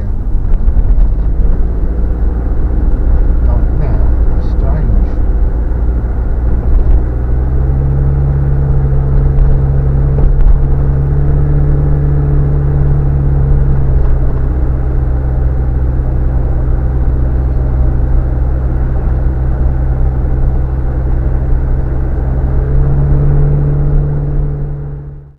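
Mazda Bongo van driving along a valley road toward Rutland, its engine a steady loud interior drone with shifting whining tones as revs rise and settle, continuous for the whole stretch with no talking.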